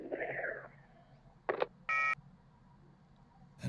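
Electronic phone tones in the video game YIIK: a short beep followed by a steady dial-like tone, faint against a quiet background, with a brief murmur of voice at the start.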